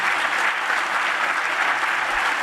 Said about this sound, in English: That deserves a clap, go ahead.